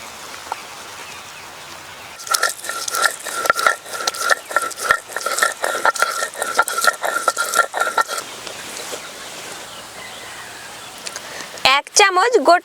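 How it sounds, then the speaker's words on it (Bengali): Whole spices such as coriander, cumin and ginger being ground on a stone shil slab, giving a run of rhythmic scraping and rubbing strokes for several seconds before stopping, with a brief burst of other noise at the end. "এবার শিলে কিছু গোটা মশলা বেটে নেব।"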